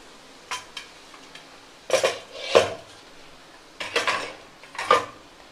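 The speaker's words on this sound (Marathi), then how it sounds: "आता आपण आपला शिजलेला भात ॲड करूया ह्याच्यामध्ये" Cooked rice tipped into a kadhai over a medium flame for chicken fried rice, with a few sharp metal clanks and scrapes of the spatula stirring it against the pan, spaced out in bursts.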